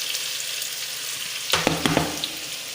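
Onions frying in oil in a home kitchen pan sizzle softly and steadily, then sharper crackles and stirring clatters burst in about halfway through.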